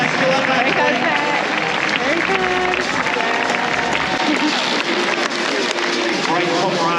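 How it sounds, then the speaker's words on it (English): At a track cycling event, a dense crowd claps and cheers steadily throughout, and an announcer talks over the applause. "let's have a big round of applause for Nathan Hart, ladies and gentlemen."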